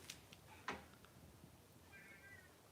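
A cat meows indoors in a quiet room: a couple of faint, brief cries with a softer drawn-out mew near the end, and no talking.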